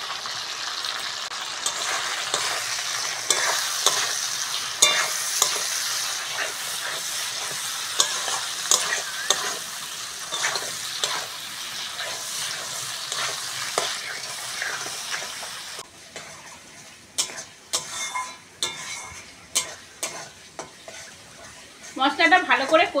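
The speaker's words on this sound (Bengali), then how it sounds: "মশলাটা ভালো করে কষে নিয়েছি" A chili and turmeric spice paste sizzles steadily in a hot pan while a spoon stirs and scrapes through it, with frequent scraping clicks and the frying quieting near the end.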